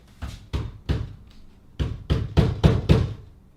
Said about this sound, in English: sounded like somebody's knocking on the door.